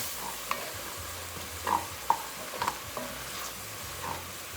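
Vegetables, carrots and turnips, simmer in liquid while a pot is deglazed: a soft, steady bubbling sizzle with occasional scrapes and clinks of a utensil against the pot, fairly quiet, with no talk.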